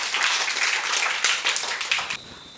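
An audience claps loudly during a quiz-show-style classroom question session, dense overlapping applause holding steady for about two seconds before cutting off abruptly.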